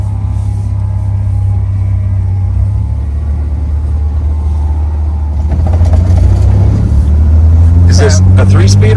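A 1959 Morris Minor 1000 convertible with its four-cylinder engine pulling away in third gear carrying two adult men: a steady low engine drone and road rumble inside the car, swelling louder toward the end, with people talking over it.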